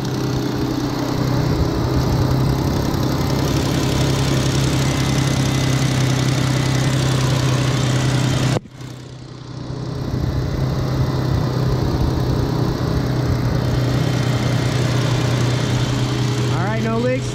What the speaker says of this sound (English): Now we're gonna start it up and make sure that it doesn't leak.